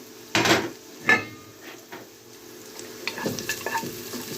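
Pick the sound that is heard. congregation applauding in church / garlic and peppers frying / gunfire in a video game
garlic and peppers frying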